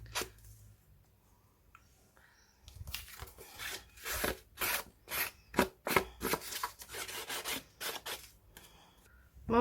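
Black soot ink being rubbed directly onto paper for a mixed media background, heard as a series of short, close, dry rubbing and scuffing strokes in irregular bursts after a quiet start.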